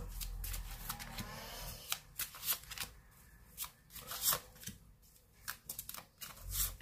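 Tarot cards handled and laid out for a romance reading, crisp close shuffling riffles and light slaps of cards set down in uneven bursts, quiet and without talk.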